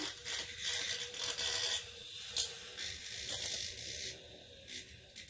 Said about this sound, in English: I'm going to start with my little whipping whisk.